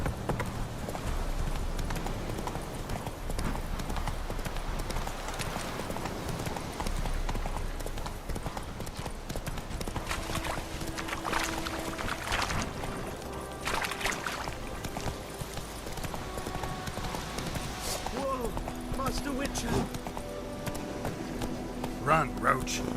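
Roach, the horse in The Witcher 3: Wild Hunt, gallops with steady, rapid hoofbeats throughout, joined by other game sounds and brief spoken lines over the running.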